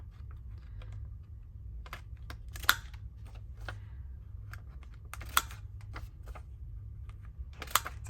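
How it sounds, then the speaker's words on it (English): Corner punch rounding the corners of a tall document journal, a handful of sharp crisp clicks scattered over a low steady hum, with a few louder snaps standing out. "I'm going to punch the corners"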